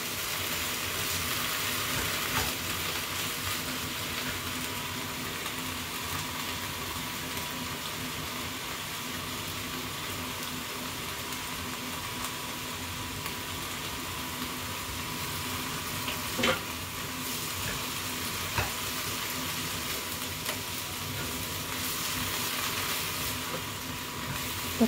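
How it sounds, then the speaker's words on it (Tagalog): Chinese vegetables stir-fried in a pan, a steady sizzling hiss with occasional clinks of stirring, continuous and even for the whole stretch without talk. "Mix lang natin ganyan."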